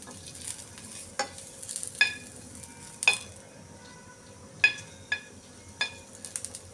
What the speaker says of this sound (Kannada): ಒಂದು ಸಣ್ಣ ಪೀಸು ಒಣಮೆಣಸು ಹಾಕ್ಕೊಂಡ್ಬಿಟ್ಟು ಚೂರು ಒಂದು ಸ್ವಲ್ಪ ಬಿಸಿ ಮಾಡ್ಕೊಳ್ಳೋಣ.